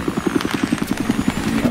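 Helicopter in an online multiplayer shooter video game, a rapid rhythmic rotor chop thumping steadily at moderate level throughout, with no talk over it.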